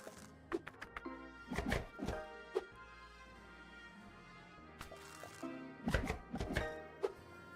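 A knife filleting fish in the video game Scale The Depths gives a string of sharp, close chopping thunks, some in quick pairs and clusters, with short pauses between them.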